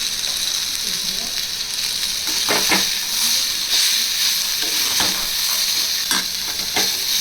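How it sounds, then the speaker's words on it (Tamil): Bitter gourd stir-fries in a pan with dried red chillies and a little salt, giving a steady loud hiss and sizzle broken by a few sharp scrape or stir bursts, close up. "நல்லா ஃப்ரை ஆகட்டும்."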